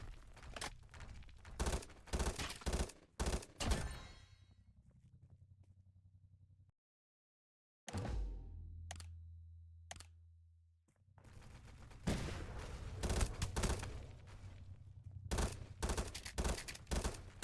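Rapid bursts of video game gunfire crackle in dense volleys, broken by a short silent gap and a low rumbling stretch, then resuming as loud sustained shooting with scattered sharp shots.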